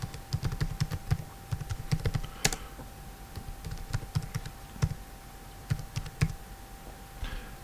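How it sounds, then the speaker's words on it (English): Typing on a computer keyboard, bursts of close, crisp key clicks in uneven rhythm, with short pauses and a sharper tap of a larger key, over faint steady hum. "I just type that in"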